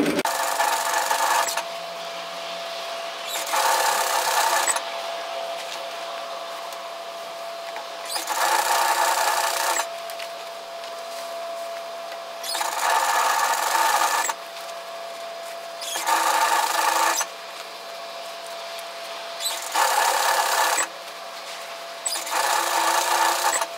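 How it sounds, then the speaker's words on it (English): Stitching around the edge of a fabric sun hat on a sewing machine comes in repeated loud bursts of a few seconds each, separated by quieter gaps under a faint steady motor tone. "just stitch around the edge"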